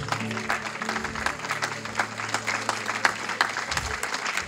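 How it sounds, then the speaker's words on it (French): A church congregation claps in unison with a rapid, even rhythm, filling the room in a sustained burst of applause with a low murmur beneath. "Au nom de Jésus, on acclame très fort le Seigneur."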